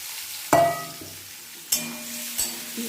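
Spices fry in a pan for an egg and fennel dish, with a few sharp scraping stirs that set off bursts of sizzle, then quieter crackling between strokes.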